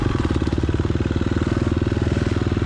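A dirt bike engine idles steadily before a hare scramble race in tight woods and sand, its rapid, even pulsing close and loud for the whole stretch, with no talk over it.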